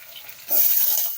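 Green chillies, curry leaves and spices hit hot oil halfway through, and a quiet pan suddenly bursts into a loud, close sizzle that holds steady.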